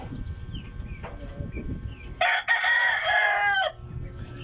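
Native chickens in a backyard pen, with a rooster crowing loudly and close for over a second amid softer clucks and a voice talking before and after.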